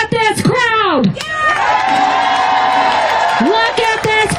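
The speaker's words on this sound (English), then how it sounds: "Look at this crowd." A large crowd at a political rally in Frankfort cheers, with whoops and shouts rising into a sustained roar, loud and close, with voices calling out over the noise.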